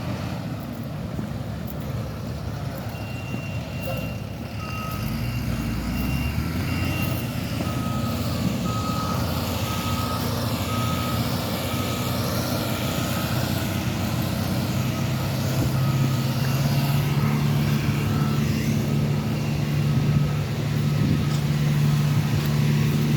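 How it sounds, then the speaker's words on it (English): GMC trucks roll out along a roadside during a speed walk, their reversing beeps sounding as repeated steady tones over a constant engine rumble and wind, growing louder toward the end. "like all those trucks are rolling out"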